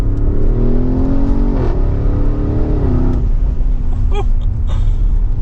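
A 2023 Porsche Cayenne Turbo engine revs close and loud, its pitch climbing twice over a deep constant rumble, with a brief whine near the end.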